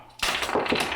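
A geode cracks open: a sudden sharp crack followed by a gritty, crumbling burst, loud and close, lasting under a second.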